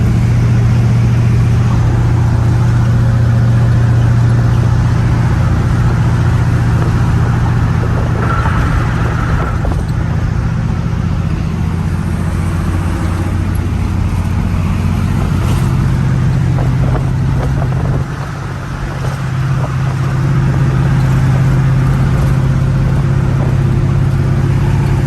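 A car cruising at around 70 miles an hour with the engine at about 2250 RPM, heard from inside as a steady, loud low drone with road and wind noise throughout.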